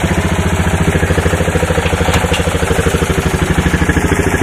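A 2000 Lakota engine idling just after a cold start, smoking heavily, a close, loud, steady chugging idle with an even pulsing rhythm throughout.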